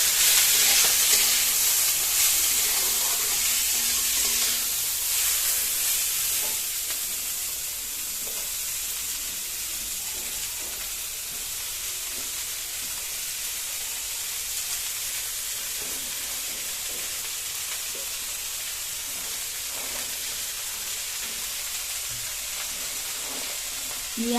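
Chopped cabbage sizzles in a hot frying pan, a steady bright hiss that runs continuously and stays close, slightly louder at first, with no talk over it.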